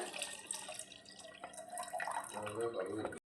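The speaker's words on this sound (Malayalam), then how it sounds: "മോരും വെള്ളം നമുക്ക് വേറെ ഒരു പാത്രത്തിൽ ഒഴിച്ചിട്ട് സ്റ്റോർ ചെയ്യാം" Homemade buttermilk, left over from churning butter, is poured into another vessel with a steady liquid trickle and splashing, close and fairly quiet.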